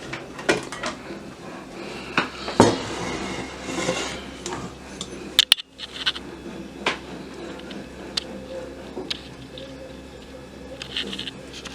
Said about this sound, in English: So scrape the bowl